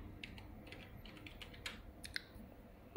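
A name is typed on a computer keyboard, a quick, uneven run of soft, close keystrokes with a couple of sharper taps near the end, quiet and alone without talk.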